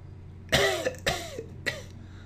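Three sharp, harsh coughs from a nearby person, spaced evenly about half a second apart, each trailing off quickly over a low steady hum.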